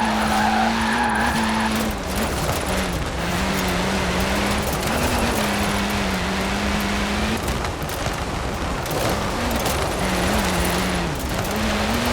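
Tires squealing as a car drifts in Forza Horizon 4, a loud continuous screech wavering in pitch over a roaring engine, close and unbroken for the whole stretch with no talk.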